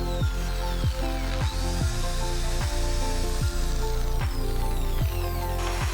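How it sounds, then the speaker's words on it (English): A 4 mm bit drilling into aluminum, a steady loud whine with regular short scraping bursts roughly every second as the bit bites and clears, close up with no talk. "Then, drill the mark using drill bit 4 mm."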